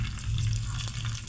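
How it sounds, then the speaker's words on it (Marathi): Peanuts fry in hot oil in a pan for fasting-day nylon chivda. A close, steady, bubbling sizzle runs continuously through the short stretch, with no talking. "तर आता शेंगदाणे तळून घेऊयात।"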